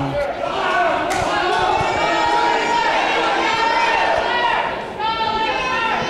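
Loud, vocal crowd at an indoor NAWA wrestling show in Lenoir, NC, chattering and shouting continuously throughout, a dense wall of many voices close around.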